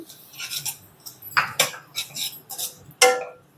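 Bombay semolina being stirred as it roasts in a kadai, giving a series of short metallic scrapes and taps of a spoon against the pan, close and fairly clear.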